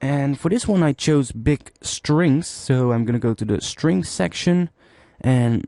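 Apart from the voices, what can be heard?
No everyday noises stand out.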